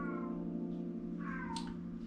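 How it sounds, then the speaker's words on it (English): An unhappy cat gives a drawn-out, rising and falling meow in the background over a steady low hum. "Apologies for the noise in the background there. Somebody's cat is not very happy right now."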